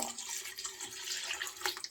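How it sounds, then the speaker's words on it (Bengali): Water is poured into a cooking pot of fish head and potatoes for a bottle gourd greens curry, a soft, steady trickling splash heard close and fairly quiet. "পানি দিয়ে দেব পরিমাণ মতো করে"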